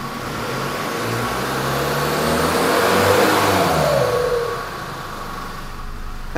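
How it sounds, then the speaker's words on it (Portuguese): Exhaust note of a Chevrolet S10 pickup with a straight-pipe exhaust, heard up close as the engine revs, rising to a peak around the middle and then settling back toward idle, with no talking. "Eu vou botar vocês mais próximo aqui do escapamento para vocês escutar."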